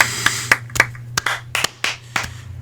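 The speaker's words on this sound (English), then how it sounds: "Everybody clap." A few people clap on cue in a podcast room, about a dozen sharp, separate claps scattered unevenly over a couple of seconds, close and dry, with a steady low hum underneath.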